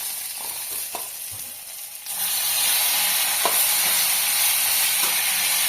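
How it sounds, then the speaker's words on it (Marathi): Onions fry loudly in a pan for an egg masala fry, the sizzle jumping louder about two seconds in as tomatoes hit the hot oil, with a few light stirring clinks over the steady hiss. "आता हा कांदा चांगला भाजत आलाय तर त्याच्यामध्ये आता टोमॅटो टाकून द्यायचं"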